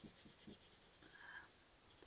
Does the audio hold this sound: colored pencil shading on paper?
yes